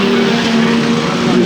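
Race cars roar around the oval stadium track at Arlington Stadium during a Westy meeting, a loud continuous engine drone with steady tones that fills the whole moment.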